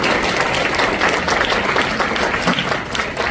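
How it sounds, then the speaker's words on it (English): A crowd at a medical talk applauds a featured doctor speaker, producing loud, dense clapping that holds steady and fades slightly at the end. "let's give a round of applause to Dr. Tim."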